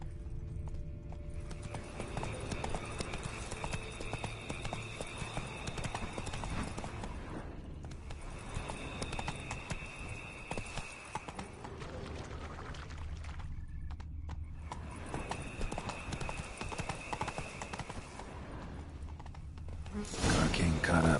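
In a video game, horses gallop with a busy, continuous clatter of hooves, loud and near, with background game ambience swelling toward the end.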